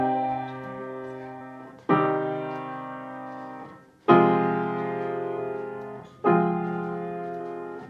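Four sustained piano chords, one per measure, each struck firmly and left ringing as it slowly decays, moving through dissonant harmonies toward resolution, played alone without talk.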